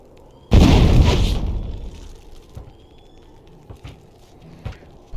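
A bomb in the Tin and Kuna video game explodes to destroy an obstacle, one loud boom that fades into a rumble, followed by scattered small clicks and taps.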